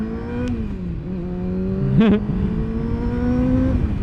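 Honda CBR 600 sport motorcycle accelerating hard, its engine note climbing steadily and close by, with a brief sharp rev spike around the middle over constant road and wind noise.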